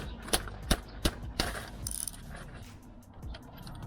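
A ratchet wrench with a long 19 mm socket works the tight oil drain plug on a Mitsubishi Outlander 2.0 DID diesel, giving several sharp metallic clicks and clanks close up, then a burst of quick ratcheting.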